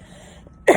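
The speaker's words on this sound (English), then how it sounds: "Oddly enough, I've also had a cough." A single sharp cough bursts out at the very end, loud and close, after a quiet outdoor stretch in winter.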